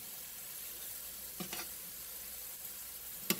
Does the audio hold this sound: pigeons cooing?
no